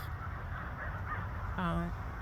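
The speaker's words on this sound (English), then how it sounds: "And they're seagulls, and they come" Seagulls call on a rainy day, a brief harmonic squawk rising clearly near the end over a steady background hum and murmur of talk.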